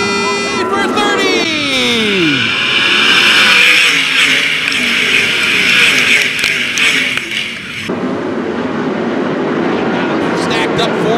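410 sprint cars race at Attica Raceway Park, their engines whining and rising in pitch as they sweep past up close, followed by a loud, continuous roar of the pack, with a voice talking over it.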